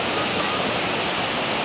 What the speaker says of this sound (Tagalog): malakas din yung tubig niya